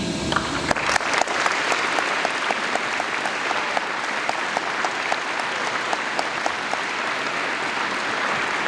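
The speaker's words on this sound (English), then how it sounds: "Let's get one big round of applause for everybody who attended today." Sustained applause from a crowd gathered at a Veterans Day event, steady and dense throughout, with a few sharp claps standing out near the start.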